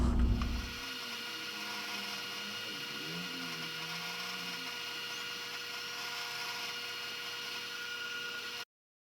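A metal lathe runs steadily with the end of a GMC axle held in the chuck and a steady rest in place, a continuous high whine and hum after a brief louder start, with no talking.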